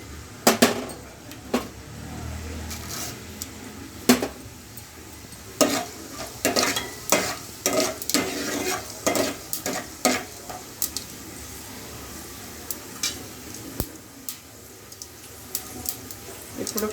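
Mustard seeds frying in hot oil with dried red chillies and cumin for a taro curry, a continuous close sizzle peppered with rapid popping and spluttering bursts and occasional spoon clinks, with brief faint voice.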